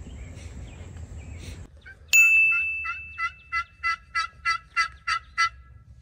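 A wild turkey gobbler in West Virginia hardwoods on the opening day of turkey season, about 300 yards away: after a faint woodland hush, a sharp metallic ding rings out, then a string of about nine loud rhythmic clucks or gobble notes.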